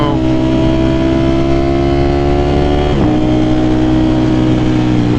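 A Ducati Panigale V4 SP2 with a Stage 2 ECU flash hums steadily on a back road, a loud, even engine drone that dips slightly in pitch about midway, with someone talking over it.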